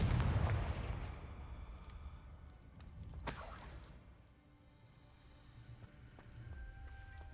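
A Confringo spell blast in Hogwarts Legacy booms loudly at the start and rumbles away, followed by a sharp crackling burst and fainter rumbling with game effects.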